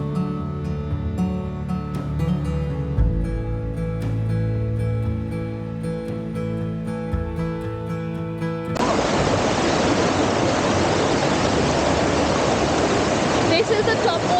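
Josephine Falls waterfall in the Atherton Tablelands, heard first under music and then as a loud, steady broadband roar of rushing water filling the rest of the clip.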